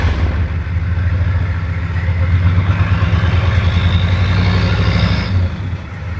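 Diesel truck engine running, a steady low throbbing rumble heard up close with a slight rise in intensity before easing off near the end.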